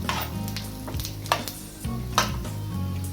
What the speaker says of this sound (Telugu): పల్లీలు ఈ విధంగా వేగిన తర్వాత ఇందులో పోపు దినుసులు వేసుకుంటున్నాను.